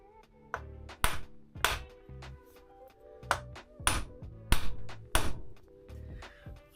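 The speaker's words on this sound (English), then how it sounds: "Now I'll give it a tap with a hammer." Several sharp metallic hammer taps on a Skoda Octavia suspension part at irregular intervals, close by, with faint ringing after some strikes and a low hum underneath.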